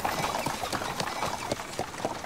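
Horse hooves clip-clop in a steady, quick rhythm in a dramatised Ottoman-era scene. The hoofbeats are moderately close against a busy background, with no talking.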